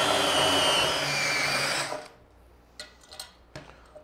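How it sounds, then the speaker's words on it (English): A power drill countersinks screw holes on a metal-cutting bandsaw table, a loud close whirring grind for about two seconds that stops abruptly, followed by faint clicks and handling knocks. "We're going to countersink these."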